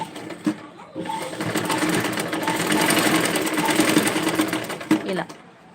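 A sewing machine stitches a dress with a steady, close whirring run lasting several seconds, with brief pauses at the start and end and voices faintly present.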